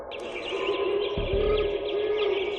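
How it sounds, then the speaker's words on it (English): Loud, continuous electronic-sounding recorded bird calls blaring, including mockingbird calls and hooting, with chirps and tweets layered over a steady hum, like birdsong played through a speaker. "hear the sound of recorded bird calls blaring"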